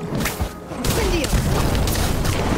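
A burst of magic from the Incendio fire spell in the Harry Potter Magic Awakened card game: a booming, whooshing blast with thuds and crackling impacts that roll on under busy game effects.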